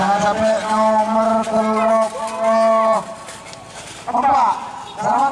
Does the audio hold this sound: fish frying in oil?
no